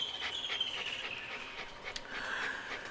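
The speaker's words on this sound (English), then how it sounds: "These are Yuri's dogs" Dogs pant at close range on a safari lodge property, a soft, quick breathy rhythm running steadily through the quiet scene.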